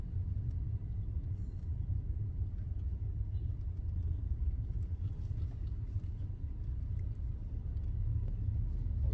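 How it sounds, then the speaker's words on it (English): Dense city street traffic in Kathmandu, with motorcycles among the vehicles, forms a steady, loud low rumble of engines that holds continuously from start to finish, with no distinct horn blasts or voices standing out. "And here in Kathmandu, a new experience with traffic for sure."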